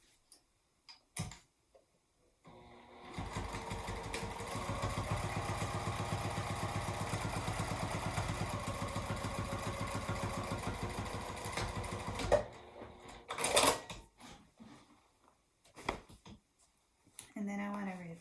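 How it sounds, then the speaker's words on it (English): A sewing machine runs a steady, fast stitching burst for about ten seconds while joining seam to seam on a craft tote, with brief handling noises and a few words spoken before and after. "I'm just stitching seam to seam"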